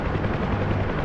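A loud, steady helicopter roar with a constant rotor thrum during nose-in hover turns, close and continuous, with no voices.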